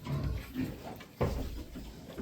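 Low snuffling grunts from Large White and Landrace cross piglets, a few overlapping noises in a busy, close setting with steady background noise.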